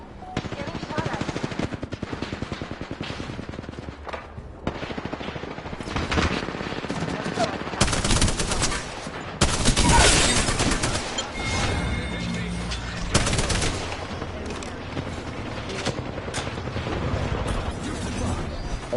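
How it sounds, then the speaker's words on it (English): Rapid automatic gunfire from Apex Legends, loud and close, with dense bursts and heavier volleys peaking midway through a chaotic firefight, while a player talks over much of it. "Getting shot at."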